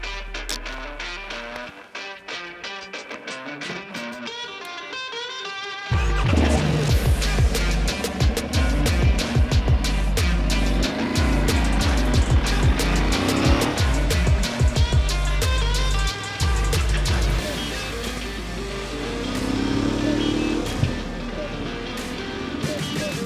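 Riding along on a road test of a Touareg motorcycle, wind and engine roar loud and close after a quieter start, steady with fluctuating rush through the ride.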